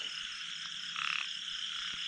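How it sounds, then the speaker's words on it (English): A small frog gives a short, high-pitched trilling call, quiet and a little distant, over a steady background hum of insects. "Really tiny frog. The call that you hear here, there's the call."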